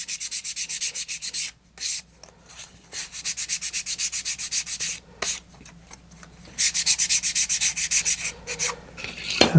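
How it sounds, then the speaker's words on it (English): Gentle sanding of wooden hinge arms for a gyrochaser hub, a close, steady rasping in rhythmic bursts of strokes with short pauses between them. "we want to just gently sand them, mostly just to take any loose wood off of them"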